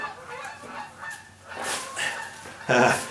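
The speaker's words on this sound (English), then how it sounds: "She's got Canadian geese around here, and they fly overhead all the time." Several goose honks sound in short bursts, the last one loudest and nearest, with faint background noise between calls.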